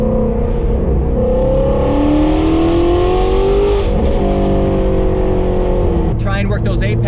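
A Shelby GT350 Wide-Body with a Kooks exhaust drives through the Malibu Canyons, its engine droning loud and close as the pitch climbs and falls through gear changes, with someone talking over it.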